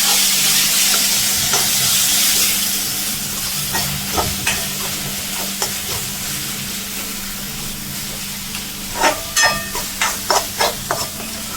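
Chole masala spice mix sizzling and frying in a hot pan, with scraping stir strokes that come in sharper clusters near the end, close and fairly loud throughout.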